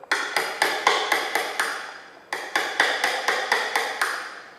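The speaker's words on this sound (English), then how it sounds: "I use a hammer on the side" A hammer taps a chisel into soft Oregon and pine timber, two runs of about seven even, ringing strikes with a short pause between, close and clear with no talk.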